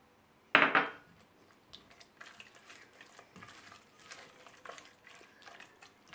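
Eggs are stirred into profiterole choux dough, opening with a loud clatter of utensil on bowl, then soft, irregular scraping and sticky mixing sounds.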